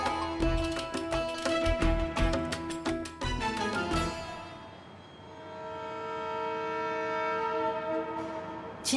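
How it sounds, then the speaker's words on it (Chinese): Turkey's Eastern Express train sounds its horn in a loud, sustained blast with a brief break, then a fainter horn tone lingers over the rumble of the rail cars. "今天我要搭的是土耳其的东方快车，是一条开往土耳其东部的火车线"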